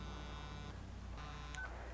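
Telephone in a TV show sounding two short electronic tone bursts, faint and distant over a low hum.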